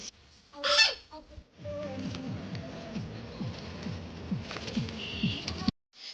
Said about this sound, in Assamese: বহুতকেইটা ক্লিপত আপোনালোকে চাগে শুনিছিলেই যে চৰাইৰ মাত, বিভিন্ন চৰাইৰ মাত